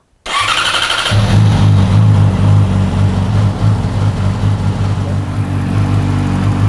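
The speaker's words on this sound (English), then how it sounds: "we're gonna start up the bike just a little bit to just to stir around some of the oil and sediment in there" A Yamaha R6 sport motorcycle engine cranks and catches, then settles into a loud, steady, close idle with a low throbbing hum. It runs briefly to stir the oil before an oil change.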